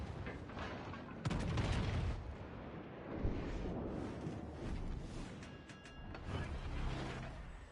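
Naval guns fire and shells land during a World of Warships Legends battle, heard as a series of heavy booms and rumbling blasts. Sharp crackling bursts rise over a continuous roar of battle.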